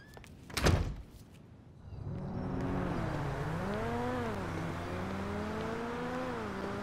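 In Grand Theft Auto V, a car door shuts with a single solid thunk, then an engine hums and revs steadily underneath for several seconds.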